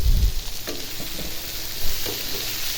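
Three green chillies fry in a pan with a soft, continuous sizzle, broken by a few scraping stirs and a louder clunk at the very start; no one speaks.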